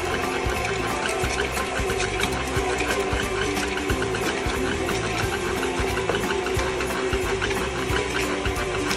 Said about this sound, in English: And what I'm doing is creaming my butter.